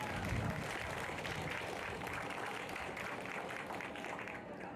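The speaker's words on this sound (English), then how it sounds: "A round of applause for all of the elected leaders and community leaders who are joining us." A crowd claps steadily throughout for elected and community leaders at an Oregon community gathering. The dense, even applause holds at a constant level with no pauses.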